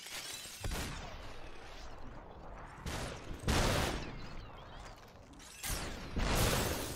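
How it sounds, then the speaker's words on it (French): Gunfire from the slow-motion shooter game SUPERHOT comes in several separate bursts of crackling, shattering shots with brief pauses between them. The volume is moderate. "Ce moment où tu tombes au ralenti, mais on te tire quand même dessus"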